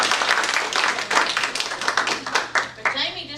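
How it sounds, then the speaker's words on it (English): Clapping from a meeting audience at a Glen Rose visitors bureau session, a lively, close patter of many hands over about three seconds, with voices mixed in. "I want y'all to applaud Jamie McElveen here."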